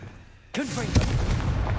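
A Confringo blasting spell in Hogwarts Legacy sets off a sudden loud boom after a quiet moment, with a whooshing sweep and a second thump, followed by a sustained rumble.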